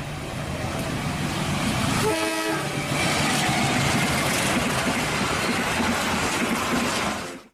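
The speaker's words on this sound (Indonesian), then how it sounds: "Di sini ada kereta api." A train rumbles steadily nearby, a horn sounding briefly partway through over the continuous rolling noise.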